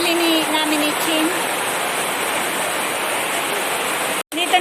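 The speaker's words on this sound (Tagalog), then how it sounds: "Lakas pa rin ang ulan guys. Ayan o, naririnig nyo ang ingay sa bubong." Heavy rain drums steadily on a house roof, a dense continuous hiss close and loud throughout, with a brief cut near the end.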